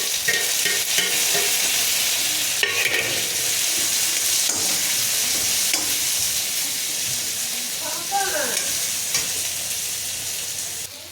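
Chopped tomatoes hit onions frying in hot oil in a pan, giving a loud, dense, continuous sizzle with scraping stirs, easing slightly near the end.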